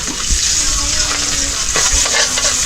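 Tilapia fish frying in oil, a steady close sizzle with occasional stirring scrapes and pops.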